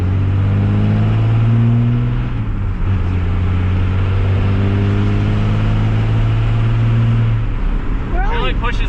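A 3rd gen Cummins diesel truck with a P-pump and a 5-inch exhaust with muffler idles and revs with a deep, loud drone that drops back near the end, followed by a brief metallic rattle.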